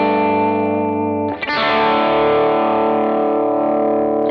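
Electric guitar chords ring out through distortion and modulation effects, a sustained chord giving way to a fresh strum that swells and holds, loud and alone.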